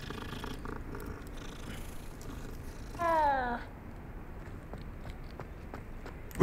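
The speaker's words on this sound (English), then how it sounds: "that looks like a cat from Coraline" A cat in the video game Hogwarts Legacy gives a short, rising, tonal purr-like call in the middle, standing out briefly over quiet in-game ambience before fading back.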